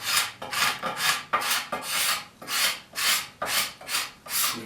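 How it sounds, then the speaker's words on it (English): A cabinet scraper drags across a wooden arm rail in about ten rhythmic rasping strokes, each one catching and popping on the wood's medullary rays, close and loud with no talk. "that scraper catching those rays"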